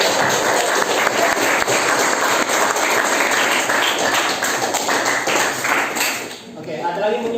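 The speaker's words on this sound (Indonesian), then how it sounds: "Tepuk tangan." Applause from students in a secondary school classroom fills the room steadily for about six seconds, a dense wash of clapping that fades near the end.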